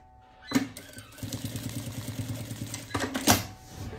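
A sewing machine stitching a patchwork wallet runs in a fast, even mechanical chatter for a few seconds, with sharp clunks as it starts and stops and no talking.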